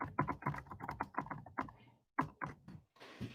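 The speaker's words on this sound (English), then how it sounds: "I could type in the chat." Fingers type quickly on a new computer keyboard during a livestream, giving a close, dense run of crisp key clicks with a brief pause and a softer rustle at the end, and no talking.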